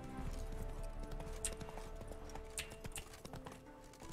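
Horse hooves clip-clop steadily at a trot in The Witcher 3, a continuous rhythmic patter of many hoofbeats close by over a busy game soundscape, with no talking.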